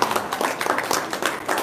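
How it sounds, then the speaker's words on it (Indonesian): An audience clapping in response to a host, a brief burst of scattered handclaps, fairly close and moderately loud. "Tepuk tangan dong"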